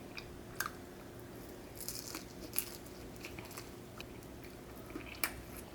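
Fried chicken from a Korean tumbang tteokbokki takeout set is bitten and chewed in a quiet room, giving a few sharp, close crunches spaced a couple of seconds apart over soft chewing.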